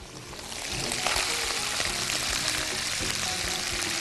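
Onions sizzle and crackle steadily as they fry in a hot pan, a loud, continuous hiss that swells soon after they drop in, with scattered small pops throughout.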